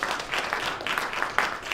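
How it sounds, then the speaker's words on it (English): A live forum audience claps together in a short, dense burst of applause, steady and fairly close, lasting under two seconds with no voices over it. "Let's clap our hands so people can hear"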